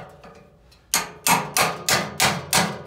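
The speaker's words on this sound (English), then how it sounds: "tap with a hammer to tighten up" A hammer taps a wedge pin against the manifold of an IMER Small 50 pump, giving six sharp, close metallic strikes in a steady rhythm after a few faint knocks.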